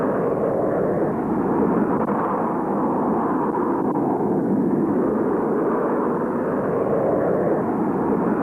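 An early jet aircraft in flight makes a steady, loud, broadband engine roar that holds constant without a break, with no voices present.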